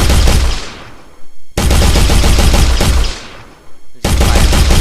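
Gunfire at targets in an Unreal Engine 4 landscape game: loud, dense bursts of rapid shots, each volley trailing into echoing decay before the next burst starts abruptly.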